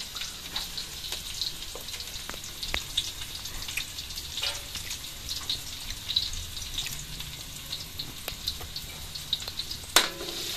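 Soft sizzling of garlic sautéing in a pan, a steady crackle with occasional small pops and clinks, no talking.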